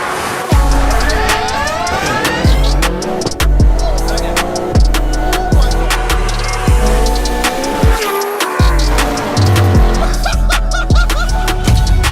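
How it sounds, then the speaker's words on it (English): Late-1990s Japanese performance cars, one a Toyota Supra, race head to head with loud engines revving up and down, sharp shifts and pops, all continuous and close. "Today we have two of the car scene's most legendary cars going head to head."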